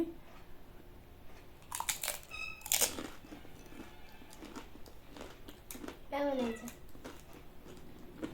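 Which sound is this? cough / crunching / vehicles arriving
crunching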